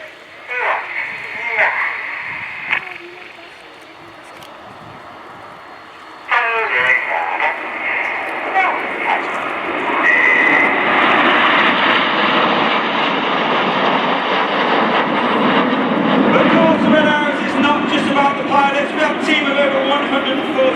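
RAF Red Arrows jets sweep past in Chevron formation at RIAT 2024. A rising jet roar builds and holds loud under a commentator's steady voice, after quieter talk at the start.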